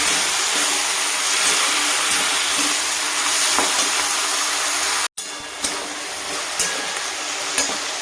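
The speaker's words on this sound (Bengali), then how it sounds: "এটা দিয়ে দেবো। দিয়ে ভালো করে কষবো।" Garlic cloves and green chillies stir-fried in a pan give a steady, loud hissing sizzle that runs unbroken, with a brief cut midway and faint scraping of stirring after it; no one speaks.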